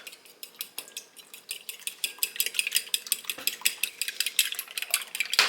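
A utensil clatters quickly and rhythmically against a bowl while an egg and milk are whisked together, the rapid clinks growing slightly busier, close and clear with no voices.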